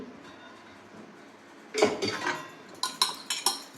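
Metal steaming tins being handled while greased with oil for dhokla, quiet at first, then a cluster of close clanks and scrapes followed by several sharp metallic clinks in quick succession.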